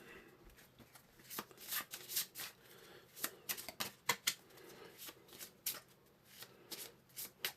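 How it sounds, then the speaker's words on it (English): A deck of game cards for a board game is shuffled by hand in quick, crisp riffling bursts and soft slaps, close up, with brief pauses between passes and no talk. "So we need to take these cascading events and shuffle them back into the cascading event deck and pull 3 out."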